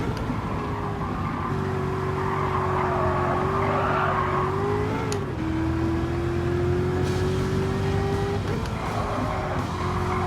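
A powerful race car in Gran Turismo 7 holds a sustained, droning engine note with continuous tire squeal as it slides, the pitch dipping and shifting through the run, loud and close with no talk.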